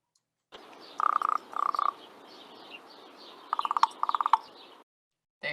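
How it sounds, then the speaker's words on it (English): A played recording of a raven's knocking call: short bursts of hollow, wooden knocks in two pairs of clustered rapid taps, heard alone and clear over faint hiss before cutting off. "So someone said the Raven Tonk or the Raven Knock."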